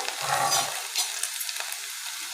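Mixed vegetables stir-fried in a pan on a medium gas flame give a bright, steady sizzle with scraping stirs of a spatula, loud and close, with no voices.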